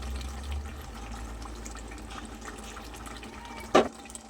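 Water pours steadily into undhiyu gravy in a pressure cooker with a low, continuous gurgling flow that ends in a brief, louder splash.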